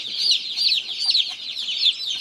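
High-pitched peeping and soft clucking from young farm chicks, steady and close, with repeated chirps in a quiet setting and no talking.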